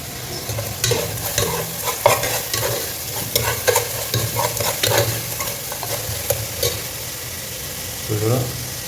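Two dried red chillies are broken into hot oil for a fish curry. The oil sizzles in an ongoing crackle with irregular spits and pops, and a utensil stirs and scrapes in the pan close by.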